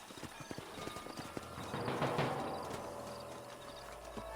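In the Red Dead Redemption video game, horses walk over a canyon trail with a steady clip-clop of hooves. The steps are fairly faint and sound close, and a brief rustle swells in the middle.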